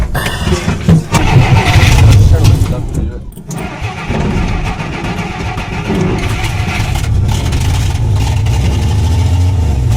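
An old Dodge truck engine cranks and catches at the start, then settles into a loud, rough running rumble that continues steadily up close, with a short dip before it picks back up, and people talk over it.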